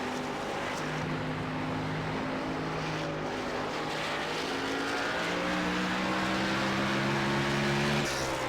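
Race car engines in an Xfinity racing video game, several engine notes droning and shifting pitch steadily together, with no one talking.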